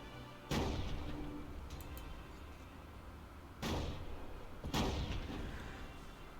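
Anti-tank gun shots in the Company of Heroes game, three heavy booming reports at spaced intervals, loud and close, each with a rumbling decay over steady battlefield background noise.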